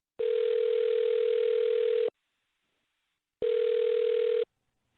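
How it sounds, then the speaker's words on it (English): A telephone line sounds while a number is dialed, giving two long, steady, loud tones separated by a silent pause of about a second. "I'll dial her phone number right now"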